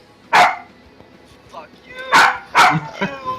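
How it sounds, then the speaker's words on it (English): A dog lets out a few sharp, loud barks in quick bursts, close by, with people talking over and between them. "Sorry for the barking, guys."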